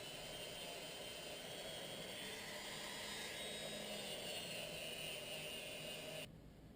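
Rotary polishing tool working on a pistol trigger spring, a steady high-pitched whining drone held close for several seconds before cutting off abruptly, no voices.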